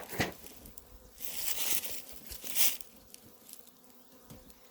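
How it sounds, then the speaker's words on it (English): A swarm of bees near a hive buzzes in surging waves, growing loud as insects pass close and then fading, with rustling and handling noises in between and no talking. "Oh, is that a hive? That's a hive? That's a swarm."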